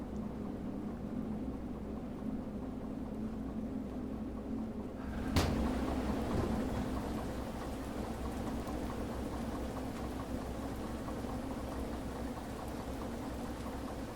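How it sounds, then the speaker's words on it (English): Heavy rain in the Derail Valley train simulator game hisses throughout, a steady, dense, constant wash of noise with one sharp knock or crack partway through; no voices. "the rain is very noisy"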